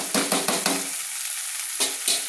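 Half a spoon of Kashmiri chilli powder stirred into ginger frying in oil, a few quick scraping stir strokes over a soft sizzle, close and brief.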